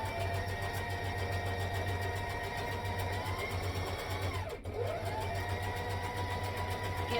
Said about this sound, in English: now I'm just going to sew along that line